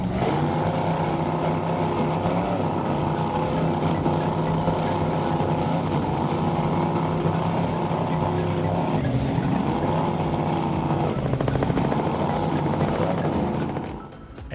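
Big engines of a 36-foot Skater powerboat at the Key West Poker Run roar in a loud, steady drone for about fourteen seconds, their pitch wavering as the boat runs, before the sound cuts off abruptly at the end.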